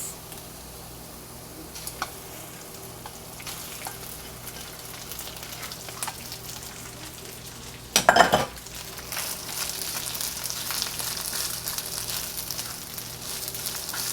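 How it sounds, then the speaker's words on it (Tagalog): Garlic fried rice is stirred in a hot pan: a steady sizzle runs throughout, with utensil clicks and a louder scraping clatter midway, then the frying grows busier. "Our next step, i-add na natin yung ating rice."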